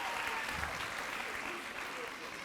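Audience applause at a school graduation ceremony, a soft, steady wash of clapping from a distant crowd filling the hall without pause.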